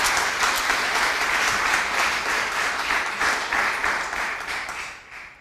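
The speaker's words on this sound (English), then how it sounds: "Let's give them a big round of applause" A big round of applause from the crowd at the opening ceremony of the Giraudel/Eggleston Flower Show, steady and full for several seconds before tapering off toward the end.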